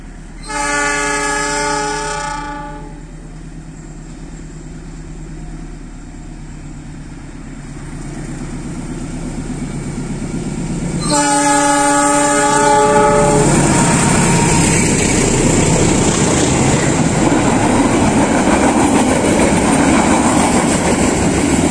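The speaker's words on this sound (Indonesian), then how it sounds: "kali ini kereta api yang melintas adalah Kereta Api Mutiara Selatan" The Mutiara Selatan passenger train in Indonesia blows a loud multi-tone horn, sounds it again, then roars past close by with rushing wheel and rail noise.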